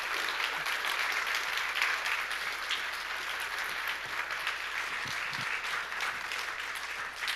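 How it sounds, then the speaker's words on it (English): A conference audience claps after a talk, a dense, sustained round of applause from many hands that holds steady throughout and is moderately loud. "Everybody, please give John Reese another round of applause."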